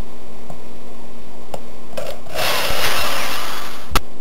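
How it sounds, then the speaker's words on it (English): A power drill bores holes through a plastic rifle forearm during a rail installation, a steady whirring burst of about two seconds after a few faint clicks, close and fairly loud, ending in a sharp tap. "And then you simply drill the holes."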